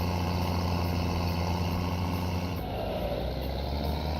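Tractor engine in a farming video game labouring up a steep hill, a steady loud low drone that holds throughout and shifts slightly in tone partway through, with no talk over it.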